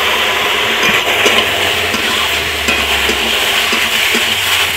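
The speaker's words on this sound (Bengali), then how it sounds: "আর একটু জল দিয়ে দিচ্ছি।" Water is added to chilli powder frying in oil in a pan, producing a loud, continuous close sizzle with faint clinks of a utensil against the pan.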